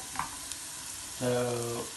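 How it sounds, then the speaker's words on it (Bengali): Garlic sizzling in a hot frying pan, a steady broadband hiss of frying with a couple of small pops early on, then a humming voice-like tonal sound rising over it near the end. "রসুনটা ভাজা হয়ে গেছে"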